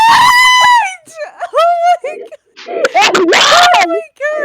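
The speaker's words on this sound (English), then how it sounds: "you're screaming so loud" Kids shriek loudly and repeatedly while playing a boat game with friends and cousins. The high, piercing screams come close up, broken by excited chatter and shouts.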